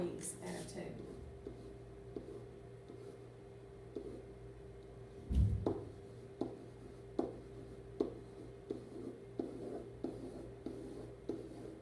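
A pen scratches out algebra with radicals by hand, faint and close, in short regular strokes with small taps between them, while a person talks quietly over the writing.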